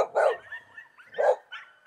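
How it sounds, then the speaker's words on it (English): Guard dogs at a contractor's equipment yard bark in two loud, close bursts about a second apart, with a fainter yip trailing at the end and no talking. "Got the guard dogs here watching out for us, letting us know that we're not supposed to be here."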